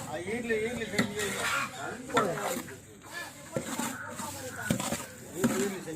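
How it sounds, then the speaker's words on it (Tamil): A spoon stirring and scraping oil, semolina and sugar together in a metal pan for kesari, with irregular clinks and scrapes under a person talking. "நல்லா மிக்ஸ் பண்ணிங்க அந்த எண்ணெய் ரவை சக்கரை மூணு நல்லா மிக்ஸ் பண்ணிங்க"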